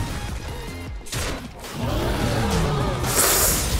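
Explosion effect in the auto-battler video game Hearthstone Battlegrounds, a short burst of crackling, rumbling bangs layered over game sounds and music, ending in a bright swell.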